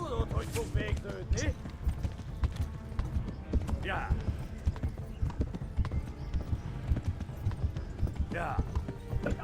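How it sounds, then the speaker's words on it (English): A horse trotting in the medieval game Kingdom Come: Deliverance, with a continuous rhythmic clip-clop of hooves, close and steady, a couple of brief snorts, and someone talking over it. "O jogo não explica que eu tenho que ficar apertando o botão pro cavalo trotar"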